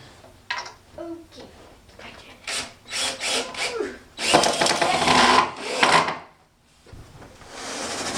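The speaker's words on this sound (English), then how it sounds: "Dad's just using a drill gun" A drill gun driving screws into a wooden wall frame for a portable studio wall, heard as a few short whirring bursts and then a longer, louder grinding run, with a voice speaking between them.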